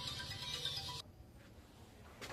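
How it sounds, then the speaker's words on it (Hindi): A phone ringtone rings during a chemistry class, a bright tonal melody playing for about a second before it abruptly cuts off, leaving a quiet room. "थोड़ा फोन किसी का आ गया,"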